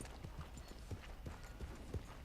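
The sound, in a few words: horse hooves from the video game Red Dead Redemption 2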